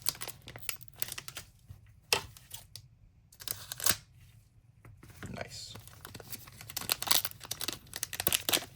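Magic the Gathering collector booster packs for Avatar The Last Airbender are torn open up close, bursts of crinkling foil and ripping between quiet pauses, with brief speech.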